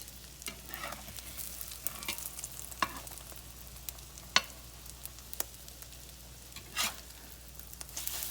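Eggs frying in a pan with rice, garlic powder and onions: a low, steady sizzle carries throughout, broken by scattered soft scrapes and clicks of stirring, and no one speaks.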